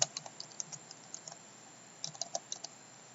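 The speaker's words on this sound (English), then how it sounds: "I'm going to type foundation." Close, light clicking of typing on a computer keyboard, two short bursts of quick keystrokes separated by a pause, with no speech.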